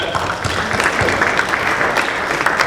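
Audience applause at a community gathering, a short burst of steady clapping filling the room without talk.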